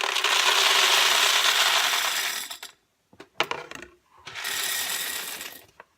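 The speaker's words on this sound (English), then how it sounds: "I take my beans and I use the paper plate to help the beans" Home-roasted coffee beans slide off a paper plate into a mason jar in two long rattling pours separated by a few scattered clicks, close and fairly loud.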